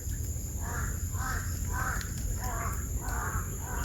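Crows caw repeatedly outdoors, a steady series of harsh calls about every half second over a constant background hum, with no talking.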